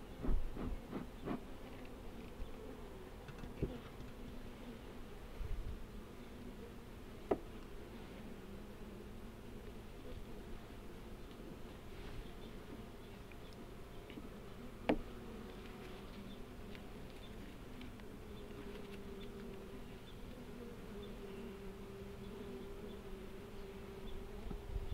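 Dense, steady buzzing of many bees close by in a hive during an inspection, a continuous low drone with occasional louder passes and faint clicks, no voices.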